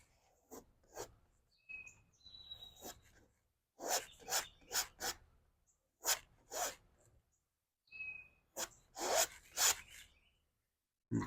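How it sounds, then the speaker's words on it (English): Palette knife scraping old paint off a canvas in repeated short, rasping strokes, close and fairly loud, coming in uneven bursts separated by brief pauses, with no talking. "I just want to scrape off as much as we can there."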